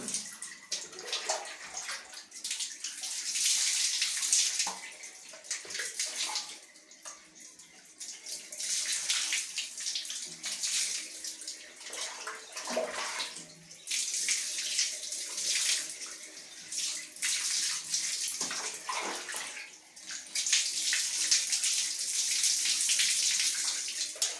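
Water runs steadily from a tap during a long hair wash with lukewarm water, a close, continuous hiss and splash that rises and falls as the flow is interrupted and resumed.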